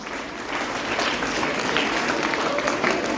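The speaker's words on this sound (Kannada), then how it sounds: "ಇವರೆಲ್ಲರೂ ಒಂದು ಚಪ್ಪಾಳೆ." An audience applauds aspiring scientists at a school talk, a dense, steady burst of many hands clapping at moderate distance, continuous for about three seconds with faint crowd murmur underneath.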